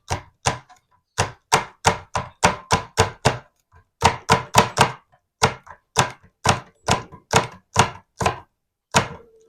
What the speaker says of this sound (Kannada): ಚಿಕ್ಕದಾಗಿರೋ ಪೀಸಸ್ ನ ಕಟ್ ಮಾಡ್ತಾ ಇದ್ದೀನಿ